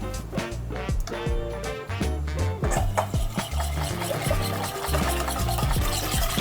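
Heavy cream whisked into a cheese sauce for macaroni and cheese, a steady scraping stir running under loud background music with a strong beat.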